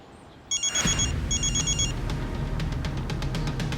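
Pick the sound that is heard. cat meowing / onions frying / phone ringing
phone ringing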